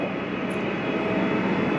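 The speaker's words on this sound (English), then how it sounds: "Still has an engine problem." A Ferrari F430 with a broken fuel pump runs with a loud, steady engine drone that holds constant throughout, with no talking.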